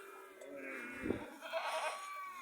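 Goats bleating on a farm where a goat has just given birth to a kid, two drawn-out nasal bleats close by, the second rising higher and wavering.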